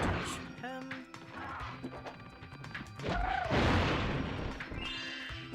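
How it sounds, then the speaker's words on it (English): A harsh, distorted explosion in Spyro 3 booms out as a deep, crunchy burst mid-clip, amid game sound effects and someone talking quietly over them. "I love how the explosions are just so broken in this game"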